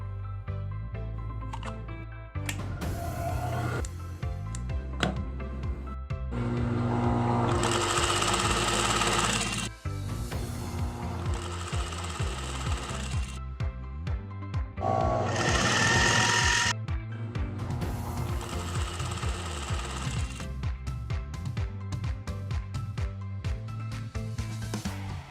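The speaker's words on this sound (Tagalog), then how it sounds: "magsugod na kitag tahi sa ato ang sewing machine" A sewing machine stitches fabric for a headband, running in long steady mechanical bursts with brief stops and restarts, close and loud, no voices.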